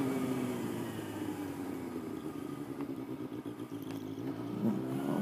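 Honda motorcycle with loud aftermarket exhaust pipes, revving high past 6,000 RPM, a steady droning engine note that rises and falls slightly while riding, with faint clatter and no talk.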